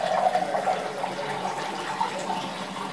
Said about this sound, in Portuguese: aí eu vou colocar um pouquinho de água